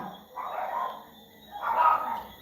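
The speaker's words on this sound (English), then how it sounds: "The dogs are barking." Dogs bark on a farm in two muffled bursts, heard faintly from a distance over steady background noise.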